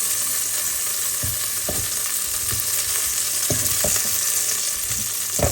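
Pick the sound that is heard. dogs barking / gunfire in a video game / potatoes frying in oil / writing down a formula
potatoes frying in oil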